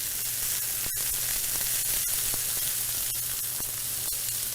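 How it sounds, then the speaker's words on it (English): Peppers and onions sizzle steadily on a hot cooktop, a close hissing crackle with occasional sharper pops and a faint low hum beneath. "Let's be quiet for a minute, let you hear the sizzle."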